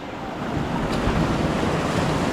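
Sea waves wash in over rocks at a narrow rocky inlet where water enters from two or three sides, a loud, continuous close surge with wind buffeting the microphone.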